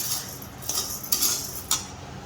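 Jowar (sorghum) grains dry-roasting in a pan over medium gas while being stirred, giving a soft steady rustle broken by three or four light scraping clinks, close and fairly quiet, with no talking.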